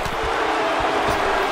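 Dense, steady roar of an arena crowd in the wrestling game WWE 2K19, loud and continuous throughout with no clear breaks.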